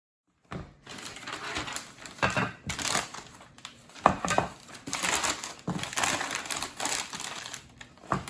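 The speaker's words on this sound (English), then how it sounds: "I'm going to use the old wrapping paper to wrap up my dishes" Old wrapping paper is crumpled and crinkled by hand to wrap kitchen dishes for a move, making a continuous close, loud rustling with irregular sharp crackles and no voices.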